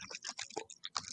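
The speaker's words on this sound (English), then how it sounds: "A dog's claws clicking on a floor." A dog's claws click on a hard floor, a fast, faint patter of light ticks in an irregular rhythm.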